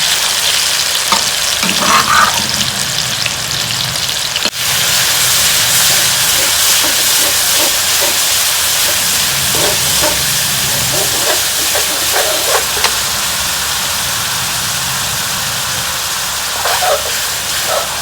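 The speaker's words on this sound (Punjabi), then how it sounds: "ਹੁਣ ਇਹ ਲਸਣ ਪਿਆਜ਼ ਹਰੀ ਮਿਰਚ ਇਹਨਾਂ ਨੂੰ ਆਪਾਂ ਸਾਰੇ ਸਮਾਨ ਨੂੰ ਭੁੰਨ ਲਾਂਗੇ" Garlic, onion and green chili frying in hot mustard oil, a loud, steady, close sizzle with intermittent stirring scrapes and a sharp clack partway through, continuing without talk.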